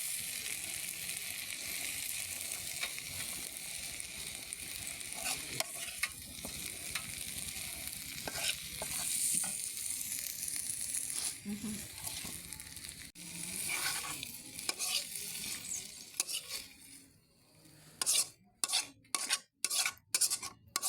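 Hilsa fish and eggplant fry in oil with a continuous, dense sizzle and some scraping; the sizzle thins near the end into a few separate crackles and clinks.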